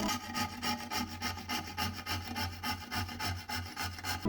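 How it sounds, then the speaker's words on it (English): A small hand saw fitted with a bandsaw blade cuts through dry gypsum in a steady, close back-and-forth rasping rhythm of about three strokes per second, gritty and scratchy with no voices. "The teeth are a little too big to cut wood with this type of handle, but for the dry gypsum it should work just fine"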